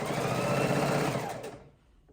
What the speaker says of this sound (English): And we're sewing our 1/4 inch seam, making sure we have both pieces lined up well.